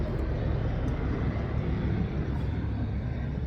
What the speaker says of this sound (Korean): 헬리콥터가 날아가.